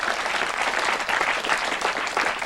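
Studio audience applause at a Seattle television town-meeting broadcast, a dense, steady wash of clapping that fills the whole stretch at close range with no voices.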